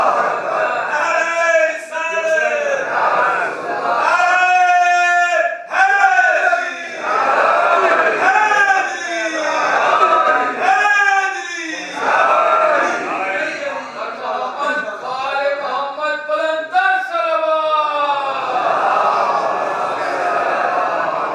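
An audience at an Islamic sermon chants religious slogans in acclaim: loud, massed voices rise in repeated rhythmic bursts with brief pauses between calls.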